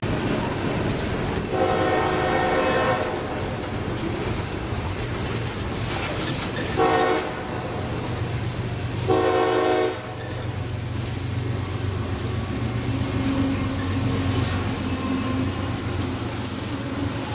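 A freight train led by a K5 HLB GEVO locomotive rumbles past close by, with a steady roar and clatter of railcars and short bursts of horn-like tones partway through.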